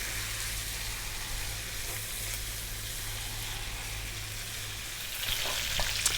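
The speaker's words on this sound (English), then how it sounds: "We're going to be frying that around" Chicken pieces and spices sizzle steadily in hot oil in a pan over slightly above medium heat, a close, continuous crackling fry with a few louder pops near the end.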